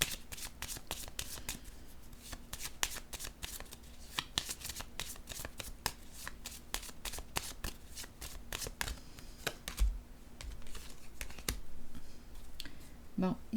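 Tarot cards being shuffled and laid down close by: a long run of rapid papery riffling and clicking, faint and fairly steady, with a few firmer taps near the end.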